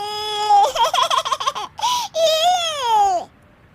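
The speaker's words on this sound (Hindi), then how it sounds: "ये बच्चे के रोने की आवाज़ कहाँ से आ रही है" A baby cries loudly and close, with wavering, warbling wails that break into choppy sobs, then a long rising and falling cry that cuts off abruptly.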